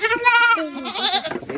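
Goats on a farm, a mother and her young kid being fitted with ear tags, bleat loudly and close by in a couple of quick, wavering cries.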